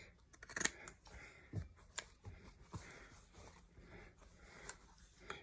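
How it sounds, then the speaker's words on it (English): Pinking shears snip through fabric around the seam allowance of a homemade face mask, a series of quiet, irregular crunchy cuts and rustles, close up and faint. "I have my pinking shears here. And I'm simply going to cut off, you know, the top of this"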